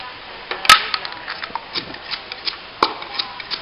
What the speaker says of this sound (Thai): ก็โขลกพริก